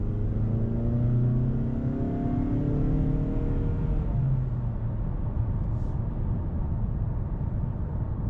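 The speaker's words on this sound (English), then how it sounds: "right now we're going to do a non-sport mode acceleration" A 2019 Mazda3 sedan with its non-turbo 2.5 liter engine accelerates in non-sport mode, its engine note rising steadily in pitch over several seconds before settling into a steady, fairly loud cabin drone.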